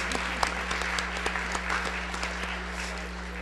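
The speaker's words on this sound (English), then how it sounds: "All right, well, let's give them a round of applause." An audience in a school event hall claps in a steady, moderately loud round of applause for board members, with sharp individual claps standing out.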